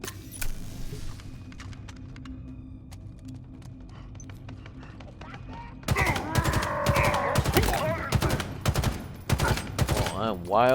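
Gunfire in the video game Halo Infinite, with rapid bursts of weapon fire that grow dense and loud in the second half over a low game soundtrack.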